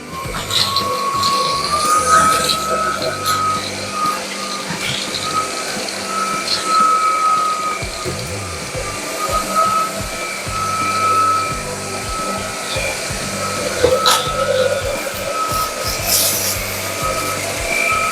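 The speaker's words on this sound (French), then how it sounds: "Alors on le démarre, on le laisse en mode automatique et vous allez voir qu'il va augmenter tout seul sa force d'aspiration." A Dreame Z20 cordless stick vacuum cleaner runs in automatic mode, a loud, steady whirring drone whose whine edges slightly higher as suction power increases.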